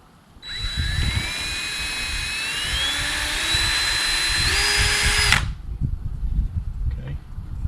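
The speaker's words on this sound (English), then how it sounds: "I'm going to go ahead and pre-drill this hole" A power drill bores a pilot hole while a Larson storm door is fitted to a greenhouse, a loud steady whine rising in pitch across about five seconds, then stopping abruptly, leaving quieter background noise.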